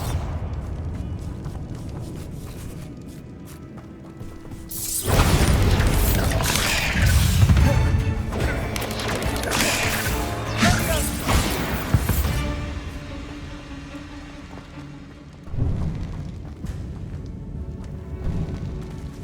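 A Bombarda spell explodes in Hogwarts Legacy, a heavy booming blast with crashing debris that swells suddenly after a quieter rumbling stretch, followed by a second, smaller thud later on.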